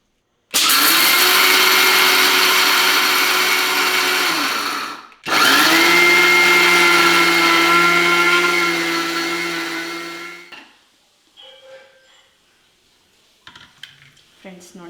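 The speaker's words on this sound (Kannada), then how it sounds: "ಈಗ ಇದನ್ನು ರುಬ್ಕೊಳ್ಳೋಣ." A mixer grinder grinds roasted peanuts into peanut butter: two loud, sustained motor runs with a steady whine and churning rattle, separated by a short stop, then the motor cuts out and light clatter follows.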